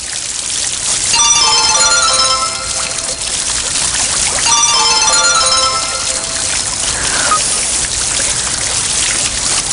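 A phone ringtone for an incoming call, a bright repeating electronic melody in two loud bursts with a short gap, heard up close with no talking.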